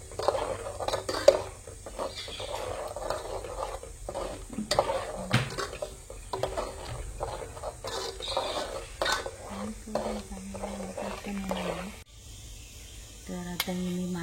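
Coconut paste being stirred into curry masala in a cooking pot, with scraping and clinking of a spoon against the metal at a close, uneven rhythm, accompanied by light sizzling and water-like sounds throughout.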